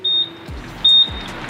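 Newly wired car horns give two short electronic honk-beeps on locking the car, each about a quarter second, evenly spaced, close and fairly loud, with faint thumps between.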